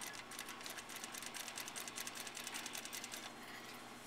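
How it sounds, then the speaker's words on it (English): A sewing machine runs fast stitches through blouse fabric in a quick, even mechanical patter, then slows and briefly stops near the end, close and fairly quiet, with no talk over it. "I'm going to sew a few stitches, reverse, and using my stay stitch as a guide"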